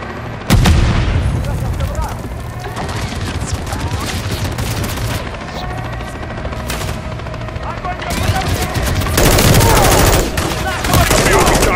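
Mounted machine gun fire on an armored vehicle in Call of Duty Modern Warfare III rattles in loud, sustained bursts with booming impacts and heavy battle noise, and voices speak over the din.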